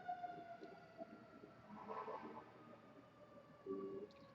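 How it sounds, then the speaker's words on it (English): Faint wailing sirens drift in the distance, their tones rising and falling slowly over a quiet background. "here comes the noise, the sirens"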